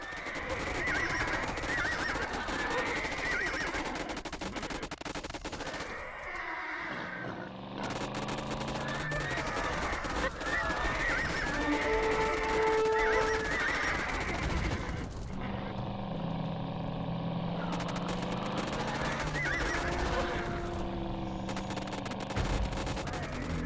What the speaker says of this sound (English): The Scythians have dozens of those mad-eyed horses they ride, all stomping and snorting in a big pen.